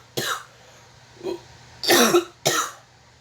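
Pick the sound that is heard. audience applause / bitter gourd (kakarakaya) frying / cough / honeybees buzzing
cough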